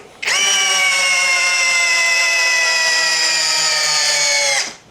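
A TEXUS BULL TX9629 cordless impact drill runs at full power in drill mode, driving a long screw with a steady, loud high-pitched motor whine that holds for about four and a half seconds and then cuts off.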